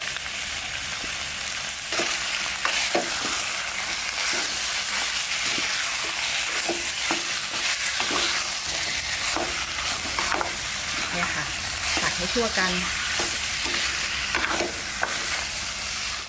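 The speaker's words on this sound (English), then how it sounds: "After finishing stir-frying the chicken" Continuous loud sizzling of chicken stir-frying in a pan with coconut milk and curry powder for khao soi, with repeated clanking scrapes of a spatula stirring it, close up.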